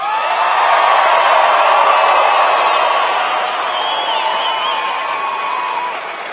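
A large political rally crowd in Billings, Montana cheers and applauds in a loud, sustained roar that stays full and steady throughout, with whistles and shouts rising out of the mass of voices.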